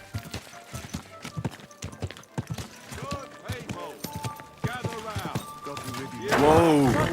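Horse hooves in the medieval video game Kingdom Come Deliverance 2, a run of clip-clop steps that builds toward a brief whinny near the end, with speech heard over it.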